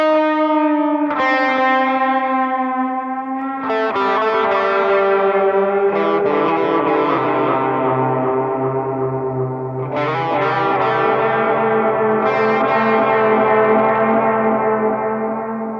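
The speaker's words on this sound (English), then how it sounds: "I'm just automating the delay at the end of the track" Electric guitar drenched in delay at the end of a track recorded in Fender Studio Pro, the automated repeats swelling into a loud sustained wash of echoing chords before trailing off, no talking.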